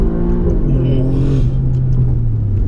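An Alfa Romeo Giulia Quadrifoglio's engine rumbles and revs loudly and close, with a deep throbbing tone that shifts pitch as it pulls, heard under a voice.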